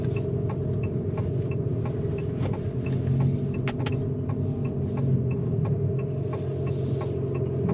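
A 2024 Abarth 500e Turismo electric car accelerating, its steady rumbling drive sound and synthetic engine note holding fairly level and continuous from inside the cabin.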